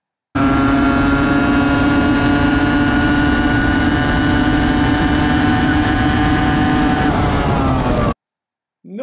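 Car engine heard from a microphone mounted on the car while it drives a track, a loud steady droning hum with fixed pitch for about eight seconds, then cutting off abruptly.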